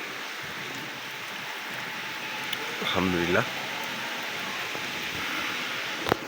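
Heavy rain falls steadily on a rooftop during a downpour, a constant broadband hiss throughout, with a voice speaking briefly in the middle and a sharp tap near the end.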